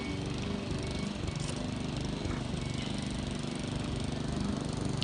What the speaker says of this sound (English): this lawn mowing is like super, super hard work